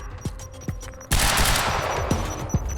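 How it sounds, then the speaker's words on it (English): Gunfire bursts and a loud grenade-like blast erupt in a video game, with sharp shots punctuating the first second before a dense, sustained roar of explosion and rapid fire fills the rest. "Grenade out!"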